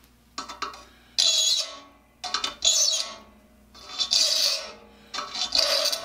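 A metal file rasps across the teeth of a saw, shaping the notched gaps of rigger teeth, in four loud, drawn-out strokes with brief lighter rubs between them; no one speaks.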